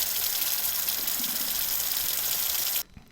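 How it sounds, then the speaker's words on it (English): Water runs from a tap in a steady, loud, hissing gush, close to the microphone, then cuts off abruptly near the end, leaving near silence with a small knock. "And we've got the running water was next"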